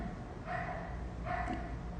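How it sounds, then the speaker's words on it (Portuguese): A dog barks twice in the distance, two short muffled bursts about a second apart, behind a steady room hum. "Tem um cachorro latindo, vocês estão ouvindo o cachorro latindo?"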